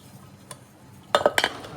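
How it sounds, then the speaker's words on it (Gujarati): Dishes and utensils being washed by hand at home, a few quick clinks and clatters of metal pots and cutlery bunched near the end after a quiet lead-in, close by. "દિત્ય રોજ વાસણ સાફ કરવા બેસી જાય છે"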